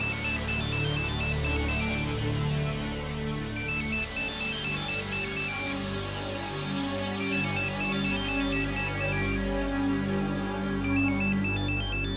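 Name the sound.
phone ringtone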